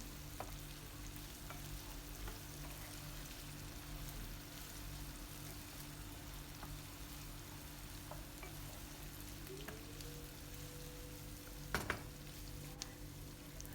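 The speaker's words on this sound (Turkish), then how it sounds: "Biberlerim yumuşayıncaya kadar pişiriyorum" Peppers fry in a pan until soft, a steady quiet sizzle running throughout with a low hum beneath and a brief clatter near the end.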